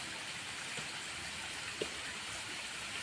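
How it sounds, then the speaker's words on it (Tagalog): A steady, even rush of a flowing stream on a hillside clearing, continuous broadband water noise with faint splashes, no voices. "Maagos yung tubig dyan."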